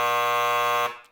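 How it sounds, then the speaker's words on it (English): A game show answer buzzer sounds alone as one loud, steady electronic tone lasting just under a second, then cuts off and fades quickly. "it's hard for me to hear that buzzer go off again"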